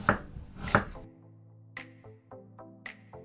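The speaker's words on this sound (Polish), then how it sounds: "Na każdy słoik pół takiej małej cebuli, krojona w pół talarki." Knife chopping a small onion into half-rings on a board, a few loud close cuts at the start followed by lighter scattered taps, no talking.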